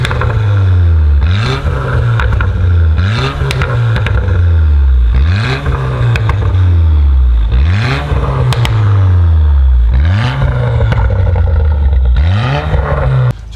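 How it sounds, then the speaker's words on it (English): A Porsche Macan engine with an aftermarket cat-back exhaust is revved hard about six times in a steady rhythm. Each rev falls off into loud crackling and popping exhaust backfires, very close. "backfires on the burbles."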